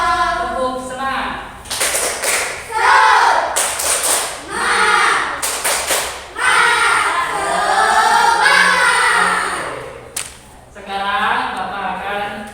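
A classroom group claps in a patterned rhythm, sharp bursts of hand claps at intervals during a 'Tepuk Semangat' clapping chant in a teacher-training lesson in Indonesia, with voices chanting along loudly between the claps.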